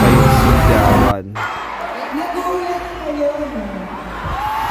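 A concert crowd at MOA Arena screams and cheers in a loud, sustained roar, swelling sharply at first and then holding as dense, distant cheering and shouting under a speaking voice.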